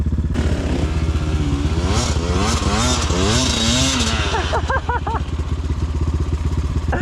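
A Rottor Bronx 300 Chinese enduro motorcycle rides and revs close by, its engine rising and falling through several throttle surges before settling into a steady, loud idle-like drone.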